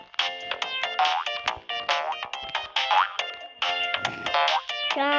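A phone ringtone plays a bright, bouncy electronic tune in repeated quick phrases, loud and close, with no talking over it.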